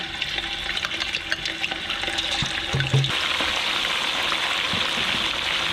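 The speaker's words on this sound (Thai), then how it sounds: "ใช้น้ำมันเยอะนะคะ เวลาทอด เนื้อนะคะนำลงไปทอดเลยค่ะ" Beef frying in plenty of oil for Thai garlic fried beef gives a steady, loud sizzle and crackle throughout, with a few soft clicks of a utensil stirring in the pan.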